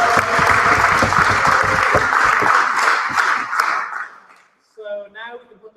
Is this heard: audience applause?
yes